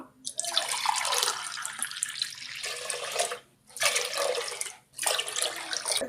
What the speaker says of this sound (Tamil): அடுத்து மூணு டம்ளர் தண்ணி சேர்த்துக்கலாம்